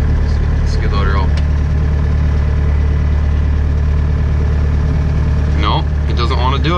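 A Bobcat skid loader idles close by with a constant low rumbling drone, while short bursts of a voice or squeal rise over the engine near the start and end.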